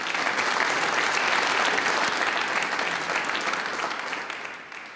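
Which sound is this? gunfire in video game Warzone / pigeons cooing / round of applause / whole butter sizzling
round of applause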